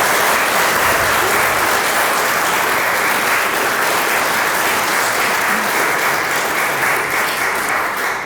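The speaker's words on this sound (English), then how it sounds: "Well, that deserves a round of applause." Wedding guests applaud during the ceremony, a loud, sustained burst of many hands clapping close by, holding steady for several seconds before easing slightly at the end.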